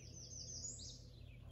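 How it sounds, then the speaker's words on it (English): A bird sings a brief chirping phrase beside a spring-fed lake on a spring day, faint and high over a low steady background hum. "Birds are singing."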